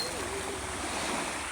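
Sea waves wash steadily against the shore as a dense, constant surf roar with wind, heard up close at a beach while swimmers play.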